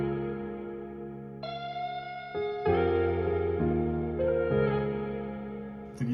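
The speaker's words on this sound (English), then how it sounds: "I take out the vocals and bring in some guitar one shots." Layered tonal guitar one-shot samples, several sustained plucked notes entering one after another and ringing out with effects.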